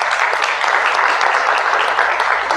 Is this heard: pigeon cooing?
no